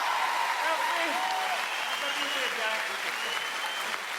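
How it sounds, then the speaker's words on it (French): Dense applause from a comedy gala audience fills the whole stretch, steady and loud, with some voices audible underneath. "Applaudissez-le, Patrick Gros."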